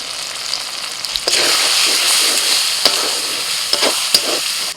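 Salt, turmeric, red chili, cumin and coriander powders fry in a pan for khichuri, cooked without onion or garlic, a steady close sizzle broken by several scraping stirs and light clinks of the spatula.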